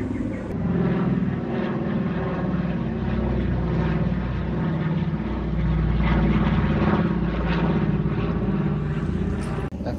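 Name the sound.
propeller airplane flying overhead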